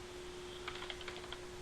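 Keys on a computer keyboard clack in a quick, faint burst of about a dozen taps while typing a gcc compile command, set against a low steady electrical hum.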